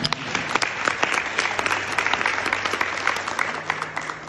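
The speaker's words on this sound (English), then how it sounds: "I think you need just to clap for yourselves about that." An audience claps enthusiastically, dense and sustained, with no voices rising above the applause.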